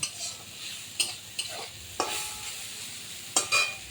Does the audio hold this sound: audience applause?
no